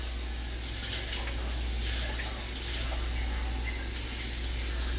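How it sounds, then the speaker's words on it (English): A steady hissing stream of water pours continuously into a cooking pot, close and even, with no talking. "let's add a little more water"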